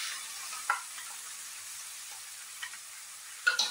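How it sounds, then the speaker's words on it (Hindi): An onion, ginger and black pepper paste fries over a low flame in desi ghee with a faint, even hiss and a few light clicks of stirring, quiet and close, with no speech. "धीमी आंच में देसी घी में इसको हम फ्राई करेंगे"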